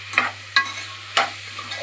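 Tomatoes, onions and green chillies for mutton biryani stirred in a pan, three distinct spoon scrapes over a soft steady sizzle, close and clear with no voices.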